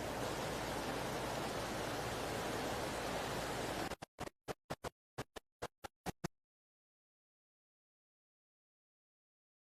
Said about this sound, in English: to hear the rushing water